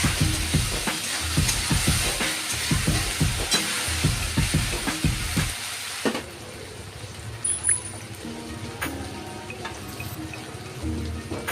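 Ginger garlic paste and masala frying in a pan for a jackfruit dish, with rhythmic scraping stirs and a crackling sizzle for the first half, then a quieter simmering sizzle with a few faint clinks.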